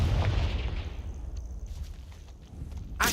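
A Confringo blasting spell detonates in Hogwarts Legacy with a loud, low rumbling boom that fades into a quieter ambient bed, followed by a sharp burst near the end.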